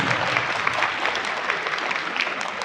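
A university audience at UET Taxila gives dense, continuous applause, with many hands clapping at an even level throughout.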